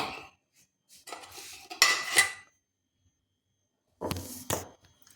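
Ingredients with green chilies are mixed in a bowl, making several clinking, scraping bursts of a utensil against the dish, separated by short silences.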